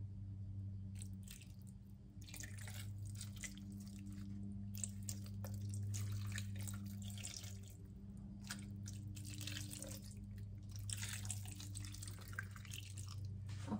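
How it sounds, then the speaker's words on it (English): Water is poured into a pan to steam rainbow trout. It gives a faint, continuous trickle and splash over a low kitchen hum, with no talking. "Now I'm gonna put some water."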